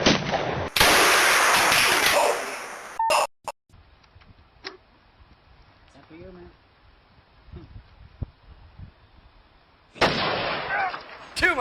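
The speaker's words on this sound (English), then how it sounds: "Now we have the 400 grain platinum tip in the 500 Magnum, and Stephanie is going to give it a shot." A 500 Magnum revolver loaded with a 400 grain platinum tip bullet fires one loud, sharp blast near the start, followed by a quieter stretch of faint handling sounds. Another loud burst comes near the end, and people talk around it.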